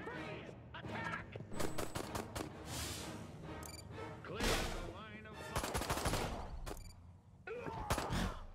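Rapid bursts of gunfire in the Destroy All Humans remake video game, loud cracking volleys and automatic fire repeating in clusters with impacts and crashes between them.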